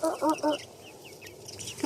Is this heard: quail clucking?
yes